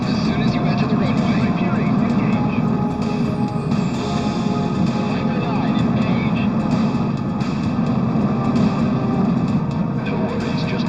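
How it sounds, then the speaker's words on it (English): A fighter jet in Ace Combat 04 on the PlayStation 2 holds a steady, loud engine roar as it takes off from an air base runway, a continuous broadband rumble that fills the whole stretch. "You're clear to take off runway 5. Take off as soon as you enter the runway."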